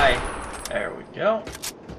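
Gunfire in the Fallout 3 Operation Anchorage simulation, several sharp shots in quick succession mixed with a man's exclamations.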